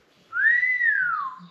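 A single clear whistle directed at a baby, one sustained note gliding up then sliding down, close and fairly loud in a quiet room.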